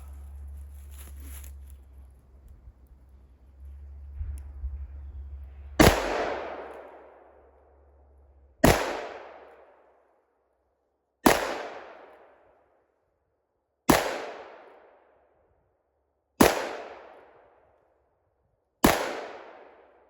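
A vintage 1970 Dan Wesson Model 11 revolver firing six single-action shots in a steady cadence about two and a half seconds apart, each a loud sharp crack with a ringing decay, after a low rumble at the start.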